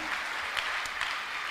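A church congregation applauding at a fellowship service in Rantau Prapat, a steady dense wash of many hands clapping throughout, fairly loud and without pauses.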